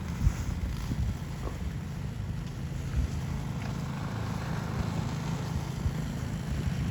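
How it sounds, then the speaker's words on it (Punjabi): A tractor clearing heavy snow in Canada drones on with a steady low engine rumble without a break, mixed with gusty wind noise buffeting the microphone. "ਉਹ ਲੱਗ ਰਿਹਾ ਦੇਖੋ ਟਰੈਕਟਰ"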